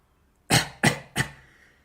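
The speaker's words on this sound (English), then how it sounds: "Skickle coughed as his senses returned." Three sharp coughs in quick succession from a person recovering after being engulfed in green smoke from an exploding lab machine, fairly loud and close, with no talk.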